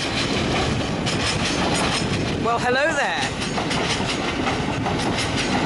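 A train on diesel mode runs through York station without stopping, a loud close rumble with rhythmic clickety-clack of wheels and a brief squeal of wheels midway, and a voice speaks briefly over it.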